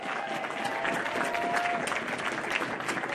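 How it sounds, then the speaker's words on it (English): A crowd at a 2022 all-star high school football awards event applauds Sportsmanship Award winners and Most Valuable Players with steady, dense clapping at fairly close range, filling the whole moment. "And one more round of applause for our Sportsmanship Award winners and Most Valuable Players."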